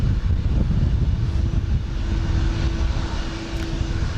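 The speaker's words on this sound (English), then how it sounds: "This should be United Flight 2013. It's going to Denver, the 777-200ER." A United Boeing 777-200ER airliner near Houston Intercontinental, a broad steady jet roar with a faint whine, heard without talk.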